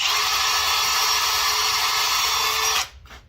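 A power drill countersinks screw holes in the wooden frame of an aquarium canopy, a loud steady whine held for nearly three seconds before cutting off abruptly, followed by a faint brief spin-down.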